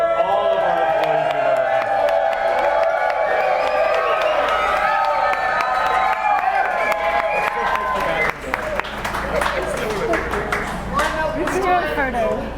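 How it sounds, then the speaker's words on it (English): Applause and cheering from a crowd at a brewery anniversary celebration honoring the employees, a dense, loud wash of clapping with whoops and voices mixed in throughout, swelling toward the end. "I want everyone to toast and have a round of applause for all of our employees."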